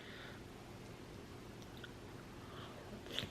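Soft, close-up chewing of tofu from spicy Budae Jiggae, Korean army base stew, with quiet wet mouth sounds steady across a few seconds and no talking.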